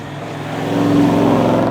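Toyota 70 Series four-wheel drive with a 4-inch exhaust, its engine note droning steadily and building slightly in loudness, close and alone without talk.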